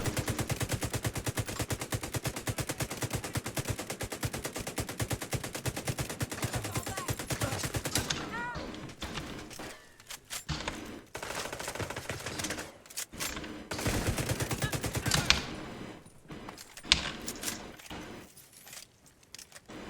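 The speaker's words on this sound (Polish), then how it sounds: "Tu się też strzelają." Gunfire in Tom Clancy's The Division 2: a long, dense run of rapid automatic shots, then broken bursts and single cracks with short gaps between them, loud and close.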